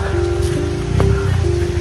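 Heavy rain falling in the mountains, a loud dense wash of drops close by, with a steady tonal hum underneath and a person talking over it.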